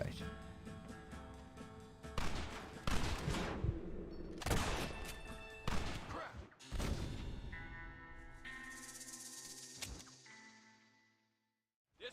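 Gunfire in the Red Dead Redemption video game: a string of loud shots and fusillades in bursts, mixed with game music and effects. A voice talks briefly now and then.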